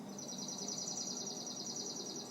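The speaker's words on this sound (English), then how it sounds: "You were just listening to a bird singing there," A bird sings in a tree plantation, a fast, high trill of evenly repeated chirps that carries on steadily over a soft, hushed outdoor background.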